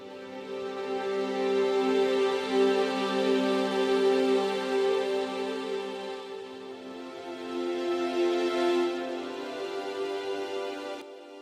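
Layered sustained strings from the Volt library doubled with Albion Tundra frozen string and ice patches play a slow chord progression, swelling and shifting over about eleven seconds before cutting off, with no talking.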